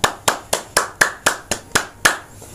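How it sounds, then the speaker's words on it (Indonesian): Nine sharp hand claps in an even, brisk rhythm, loud and close, each a crisp slap with a short decay, with no talk over them. "Tepuk tangan."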